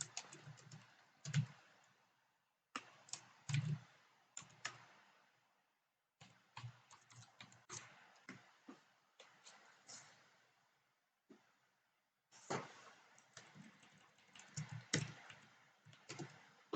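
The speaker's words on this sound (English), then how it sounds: "you can type the program code, Java code here, and then so let's type this one" Java code being typed on a computer keyboard, quick clusters of close, quiet key clicks separated by short pauses, with no one talking.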